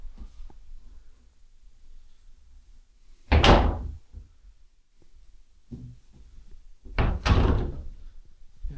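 Closet doors slide and bump shut inside a townhome, two distinct loud knocks a few seconds apart with softer rolling and rattling between them in a quiet room.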